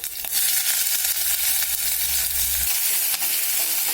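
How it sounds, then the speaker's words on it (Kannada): Onion frying in a pan with mustard seeds, cumin, ginger and garlic for dal khichdi, a loud steady sizzle close by with occasional light stirring scrapes, no voices. "ಚೆನ್ನಾಗಿ ಫ್ರೈ ಆಗಬೇಕು ಈರುಳ್ಳಿ"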